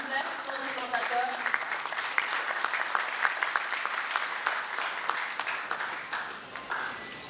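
Dense applause from an audience at a political programme presentation in French, a steady patter of many hands clapping for about seven seconds before thinning out.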